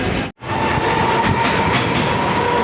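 A Pune metro train rolls past at steady close range, a loud continuous rumble with faint rail clatter and a tonal hum, briefly cut by a short gap near the start.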